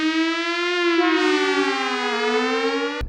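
A single wailing alarm siren holds a steady, harmonically rich tone, slowly rising and falling in pitch before cutting off abruptly.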